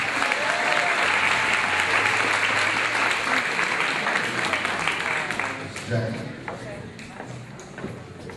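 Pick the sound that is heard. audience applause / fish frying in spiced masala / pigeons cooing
audience applause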